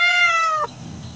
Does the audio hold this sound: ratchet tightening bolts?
no